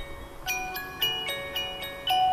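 A mobile phone ringtone plays a repeating electronic melody of bright chiming notes, moderately loud over faint room noise.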